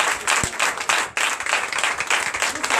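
A congregation at a night deliverance and prophecy church service breaks into loud, sustained applause, with many hands clapping densely throughout and a brief dip partway through.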